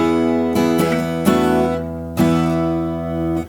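An acoustic guitar plays the first half of the intro riff of Led Zeppelin's Ramble On with open high strings ringing, a bright, chiming phrase of several plucked chords with sustained ringing notes, loud and close, with no talking.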